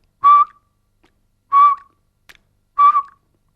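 A person whistles three short, clear notes, evenly spaced with pauses between, as a saxophone embouchure exercise; close and loud with no talking.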